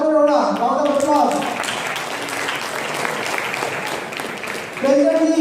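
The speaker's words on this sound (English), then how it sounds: "Round of applause." Audience at a Rigved Mahayajnya recognition event breaks into applause, a steady wash of clapping that swells after a spoken announcement and fades as a voice returns at the end.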